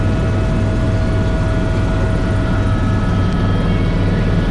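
Loud, steady drone of a Niagara Helicopters tour helicopter heard from inside the cabin, a constant low rumble with rotor throb and engine whine.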